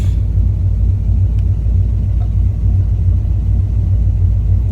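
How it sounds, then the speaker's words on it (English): A VG Valiant hardtop car on its first test drive, heard from inside as a loud, steady low engine and road rumble that holds constant throughout. "first test drive."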